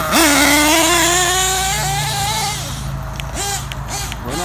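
Losi 8ight RTR nitro truggy RC car held at full throttle, its small engine screaming in a loud, high whine that rises, holds, then drops and revs again in short bursts.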